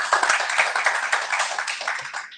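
A church congregation claps during a sermon, a lively, close burst of hand clapping with a quick, uneven rhythm that fades out over about two seconds.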